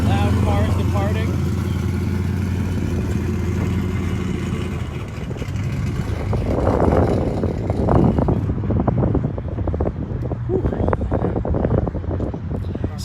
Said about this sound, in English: loud cars departing.